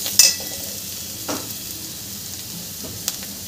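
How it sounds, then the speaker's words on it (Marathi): Vegetables with chili flakes being stirred in a frying pan for street-style veg fried rice, a steady sizzle with a few sharp scrapes of the utensil against the pan, close and alone. "हे भाज्यांमध्ये छान मिक्स करून घ्यायचं आहे।"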